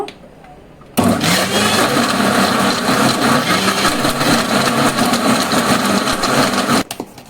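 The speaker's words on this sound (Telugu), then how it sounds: "ఇప్పుడు ఈ విధంగా మనము మిక్సీ వేసుకుందాము" A mixer grinder blending tomatoes for pickle starts abruptly after a second of quiet and runs as a loud, steady whirring grind for about six seconds before cutting off, close and alone.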